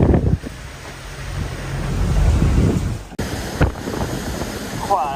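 Stormy open ocean during the Vendée Globe sailing race, with wind over 50 knots and 6 to 8 metre seas: loud, steady roaring wind buffeting the microphone and crashing surf, with a sharp break partway through.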